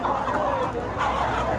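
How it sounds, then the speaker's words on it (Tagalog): Chickens clucking loudly and continuously at a poultry shop in Dammam, Saudi Arabia, close and busy with overlapping calls. "nag-iingay na yung mga manok oh"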